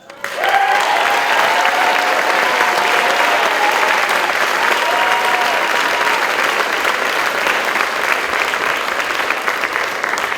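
Sustained audience applause at a high school honors scholarship award ceremony, a loud, even wash of many hands clapping that holds steady for about ten seconds, with faint voices mixed in.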